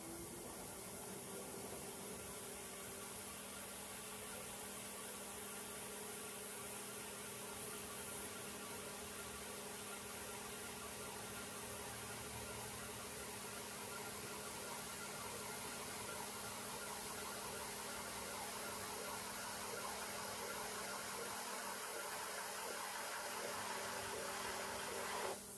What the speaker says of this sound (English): I'm gonna spin the wheel a bit faster and move my tool slowly